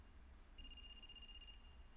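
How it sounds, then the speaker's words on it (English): A phone in a visual novel video game rings with a steady electronic trill lasting about a second, fairly faint above a low background hum. "Is that a phone ringing?"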